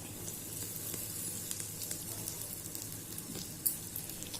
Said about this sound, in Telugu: ఇందులో మనము ఎండుమిరపకాయలు వేసుకోవాలి ఇలా వేగుతున్న దాంట్లో మనము ఇంగు వేసుకోవాలి